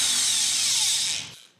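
A Festool random orbit sander whirs steadily with a bright, hissy grinding against wood, then winds down and cuts off near the end.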